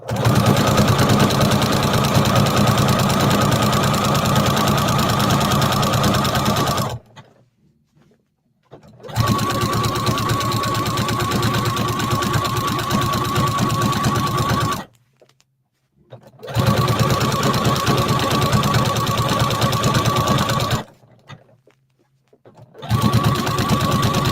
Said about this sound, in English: I'm going to just do a couple more stitches and then back stitch.